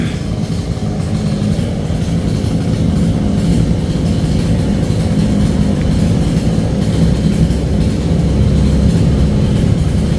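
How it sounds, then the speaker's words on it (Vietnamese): A gasoline engine generator runs steadily nearby with a loud, continuous low droning hum and no pauses, heard on its own without talking. "giật cái máy cho chạy máy nổ để lấn áp tiếng nhạc"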